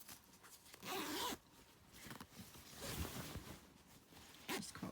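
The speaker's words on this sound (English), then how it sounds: "so let's just close the zip" A zip being closed along sewn fabric while fitting it into a Vogue V9075 garment, with several short rasping pulls near the mic and small handling noises in between.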